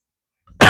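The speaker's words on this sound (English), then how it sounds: "Excuse the coughing." A single short cough right up close at the very end of a silent stretch, heard while a knife is assembled from a DIY kit at a home workbench.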